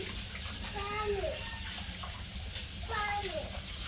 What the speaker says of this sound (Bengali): এই যে চাল ভিজে রেখে দিচ্ছি চালটা ধুয়ে